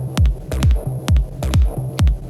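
Electronic kick drum with no Shaper Box denoising plays a steady pulse of about five punchy, booming hits with a clicky attack over a droning, noisy bed, close and loud, without talk.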